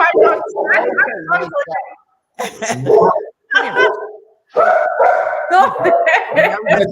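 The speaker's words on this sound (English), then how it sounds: "There's my dog." A pet dog barks in short bursts, close by and mixed in with people talking and laughing, the yips coming between and over the voices.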